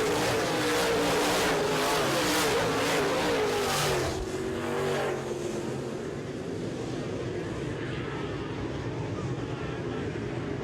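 Modified race cars roar around an oval track in a feature race, engines loud and sustained with rising and falling pitch as the pack passes and then settles into a steady drone.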